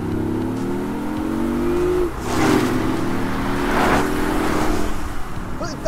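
A BMW i8's three-cylinder engine drones and then accelerates hard in two surges, heard from inside the car, loud and close with a voice talking lightly over it.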